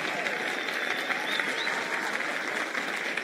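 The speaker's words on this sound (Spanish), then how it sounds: "les pido que recibamos con un fuerte aplauso al escritor Mario Mendoza" An audience gives a steady, dense round of applause welcoming a writer onto the stage at a film talk event, with a faint murmur of crowd beneath.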